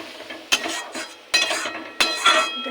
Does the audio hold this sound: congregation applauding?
no